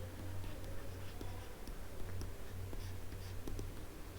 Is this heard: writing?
yes